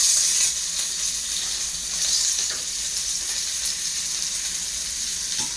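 Curry leaves and onion sizzle steadily in hot oil for an egg curry, a continuous bright frying hiss with faint stirring, close and fairly loud with no talking.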